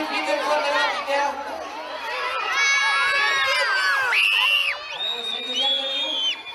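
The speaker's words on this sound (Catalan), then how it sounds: "I un crit ben fort de ràpid, ja!" Crowd of children at a kids' carnival shouting loudly together on cue, a dense burst of high excited voices that swells and holds, with some shrieks rising above the mass.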